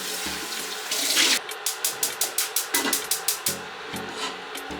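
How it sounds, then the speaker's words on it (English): Water pours from a tap into a cooking pot for a Jamaican boiled-food meal: a brief hiss and gush, then a rapid run of regular splashy pulses as the stream fills the pot. "So now I will get the water in the pot."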